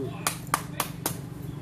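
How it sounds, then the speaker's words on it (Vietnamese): Four sharp, evenly spaced hand claps keep a steady beat at a lively Vietnamese singing and dancing session, close and clear over a low background hum. "Vỗ tay."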